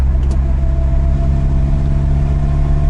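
Nissan 200sx engine held at a high-ish RPM while coasting, a loud continuous drone with steady tonal harmonics heard from inside the car, with only a brief click at the start and no talk.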